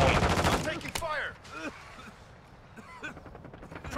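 Bursts of gunfire in Call of Duty Modern Warfare II, dense and loud at the start and then sparser shots, with in-game voice callouts over the action.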